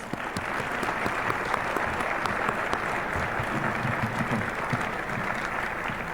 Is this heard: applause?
yes